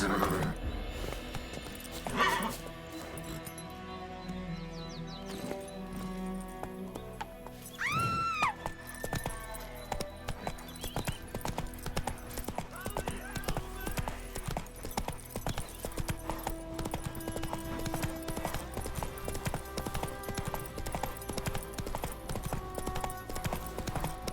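In The Witcher 3, the horse Roach gallops in a quick, steady clip-clop rhythm of hooves, with a whinny partway through, a voice and game sounds around it.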